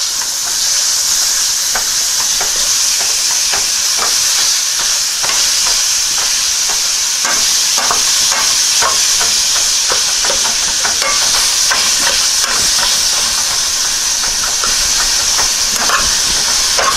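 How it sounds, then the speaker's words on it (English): Hamburger meat for beef and bean chili frying loudly in a pan while being broken up, a dense continuous sizzle with repeated scraping and tapping of the utensil, close and without talk. "Now we're gonna just break the hamburger up."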